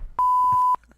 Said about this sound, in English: you have to open your mouth when the beep noise happens